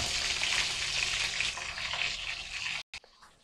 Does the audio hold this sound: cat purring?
no